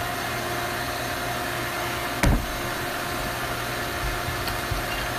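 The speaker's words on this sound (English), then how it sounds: "You heard the shop vac like go up" Shop vacuum running steadily as suction on a CNC vacuum table, a constant broadband hiss and hum with a brief louder burst partway through.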